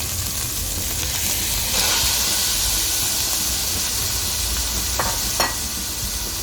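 Minced meat hits a hot frying pan and sizzles with a loud, steady hiss that swells as it goes in, with a couple of brief clinks from stirring near the end.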